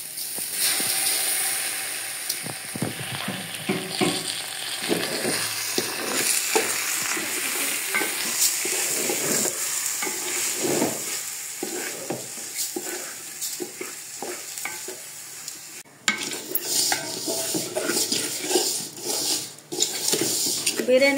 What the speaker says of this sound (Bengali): বিরিয়ানির চালটা আমি ভালো করে ভেজে নিয়েছি